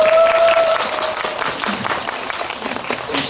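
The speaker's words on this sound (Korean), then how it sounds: "박수 한번." Applause from a cinema audience during an actor's talk event in Seoul fills the space with steady, loud, dense clapping from a crowd, lasting throughout without letup.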